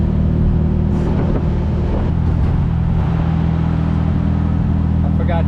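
An old, long-forgotten VW Beetle engine on its first drive in 27 years: a loud, continuous, close rumbling drone with a rough, uneven throb.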